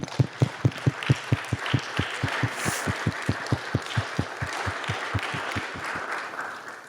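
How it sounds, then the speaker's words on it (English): An audience at an evening lecture claps in a strong, steady rhythmic beat, about three claps per second, loud and close, with a softer wash of scattered clapping beneath before it stops abruptly. "Please join me in giving a round of applause to these people."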